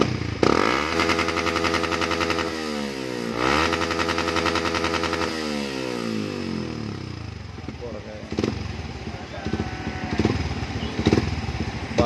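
A motorcycle engine revs hard several times, pitch sweeping up and down with loud, close blasts, then settles to a rough idle with clattering.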